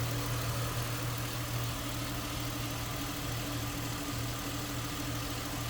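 A 2007 Ford Mustang convertible idles at a steady, even pace, a continuous low rumble with a smooth hum that holds without change and has no talking over it.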